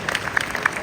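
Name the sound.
audience applause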